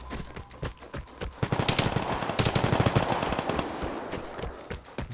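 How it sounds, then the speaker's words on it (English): Bursts of M2 carbine automatic fire crackle through a Vigor match in Dverg Forest, rapid shots clustering into a dense, loud volley in the middle and trailing off into scattered pops, with no talk over it. "I'm pretty sure that something else was an M2 carbine"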